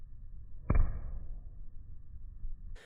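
Silly Putty dropped close to the floor with a microphone held near, giving one dull, low thud with a short body, then a quiet room tail and a faint brighter noise at the very end.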